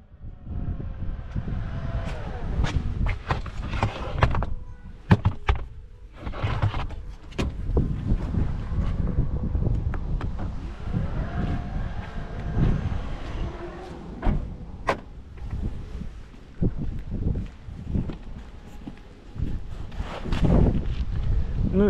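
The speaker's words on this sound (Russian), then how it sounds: "Господи, еще и ветер такой сильный." Strong wind buffets the microphone in uneven gusts and rumbles, with occasional clunks and rustles and a voice speaking now and then.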